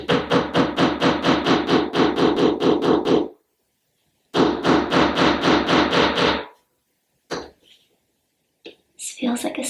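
Holes are poked into a closet wall to find a stud. Two long runs of rapid, evenly spaced sharp taps are heard close up, then a few scattered knocks and scrapes.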